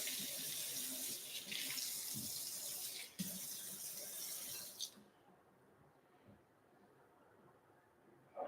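Running water from a tap pours steadily onto a diamond sharpening stone, a broad splashing flow that cuts off about halfway, leaving a quieter trickle and faint handling noises.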